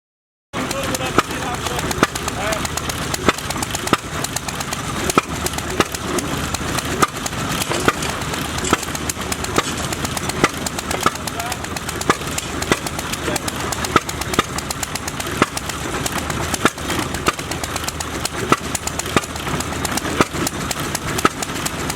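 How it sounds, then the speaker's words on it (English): A red International engine powers a block machine at the Berryville steam show, giving a steady, dense mechanical running din that continues throughout, with crowd voices and outdoor show noise mixed in. "that red International engine is running that block machine"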